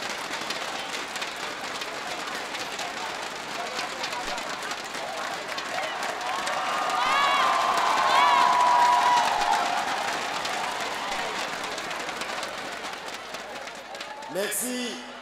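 Sustained audience applause at a university graduation ceremony in the evening, a broad wash of clapping from a large crowd that swells in the middle and then fades, with a voice over a speaker system during it.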